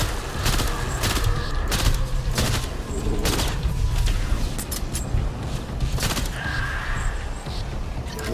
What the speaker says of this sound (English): Someone is shooting their bullets at us.